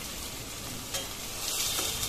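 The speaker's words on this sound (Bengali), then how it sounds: "আদা ও কাঁচামরিচের পেস্ট কিছুক্ষণ নেড়ে চেড়ে একটু ভেজে নিব।" A ginger and green chili paste sizzles steadily in hot oil while being stirred, with a constant close crackle and soft scraping touches of the spoon, no voices.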